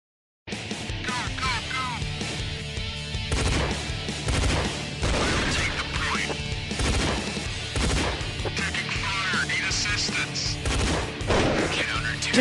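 Gunfire in an online multiplayer video game, dense rapid shots and crashing impacts layered over a busy game soundtrack, loud and continuous after a brief silent start.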